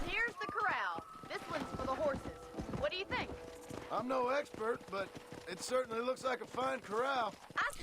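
Horse hooves clip-clop at a run in the Red Dead Redemption game on Xbox 360, a steady rhythm running under continuous talking throughout.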